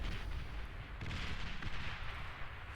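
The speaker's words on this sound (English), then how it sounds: "Just artillery versus artillery battles." Artillery fire from units in the real-time strategy game Beyond All Reason, a steady rumbling barrage of overlapping booms and crackling shots, fairly faint and distant-sounding, with no talking.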